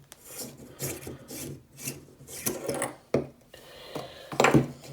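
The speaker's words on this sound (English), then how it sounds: "like this has an E26 base, let's try screwing this in." An E26-base light bulb is screwed into a fixture, giving close, gritty scraping twists in uneven short bursts, with a few light clinks of glass and metal. No one talks.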